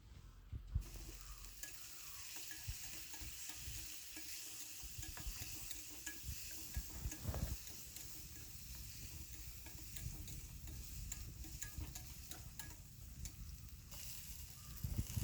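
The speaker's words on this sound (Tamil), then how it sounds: "தேங்காய் நல்லா எண்ணெயில் வறுந்து வாசனை வர அளவுக்கு நல்லா வறுத்து எடுத்துக்கலாம்." Steady sizzling of coconut frying in hot oil with occasional stirring scrapes, continuous and close, no voices.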